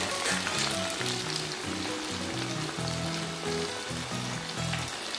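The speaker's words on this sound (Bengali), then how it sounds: "এটা একটা পাশ খুব ভালো মতো ভাজা হয়ে যাওয়ার পরে আমি পটেটোটাকে উল্টে দেব" Potato wedges frying in hot oil in a pan, a loud, steady crackling sizzle with bubbling pops that carries on without pause and no voices.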